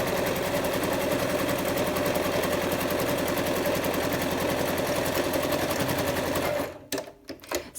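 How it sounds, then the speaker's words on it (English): A sewing machine stitches two curved cloth pieces of an up-cycled face mask together, a steady rapid mechanical whir running loud and close for several seconds before stopping abruptly into a few faint handling sounds. "Now I'm sewing the other piece."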